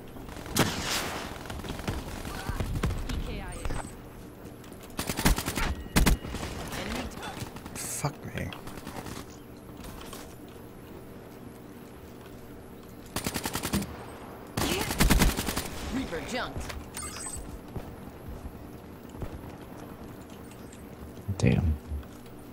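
Automatic gunfire in Black Ops 3 multiplayer, bursts of rapid shots spread through the stretch between quieter gaps, with players talking over the shooting.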